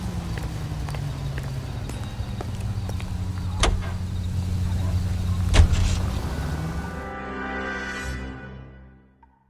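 A car being driven in L.A. Noire gives a low, steady engine hum with two sharp clunks partway through. The engine note rises near the end, then fades to silence.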